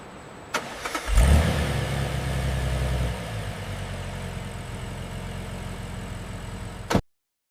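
A BMW M5 engine fires for the first time on a factory line: a click, a cranking burst, then a loud catch that settles into a steady mid-pitched idle until an abrupt cutoff.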